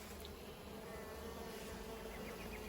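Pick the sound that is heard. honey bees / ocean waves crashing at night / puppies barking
honey bees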